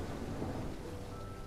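Rain and thunder in the video game Coreborn, at Ambros Fields: a steady, dense wash of rainfall with a low rumbling underneath, continuous and fairly loud throughout.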